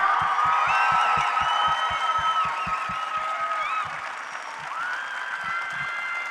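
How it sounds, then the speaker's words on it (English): A crowd at the 2019 Ace Comic Con X-Men: Dark Phoenix panel with Michael Fassbender claps and cheers over bright music, loud at first and then easing off after a few seconds. "can we get a round of applause for this amazing panel?"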